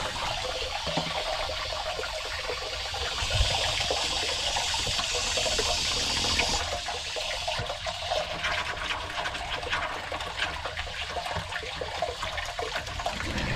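Water rushing steadily into storage tanks at an off-grid homestead, a continuous loud gushing flow that runs unbroken throughout, close up with no talk.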